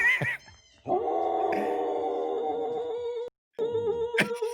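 A Samoyed dog yips and whines in high, drawn-out tones from a played video, a few sustained cries broken by short pauses and a sharp burst at the end.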